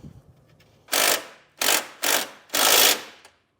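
A ratchet turning a 13mm nut on a battery stud of a 2021 Ford Escape, four loud, close, dry clicking bursts with short pauses between them and no talk.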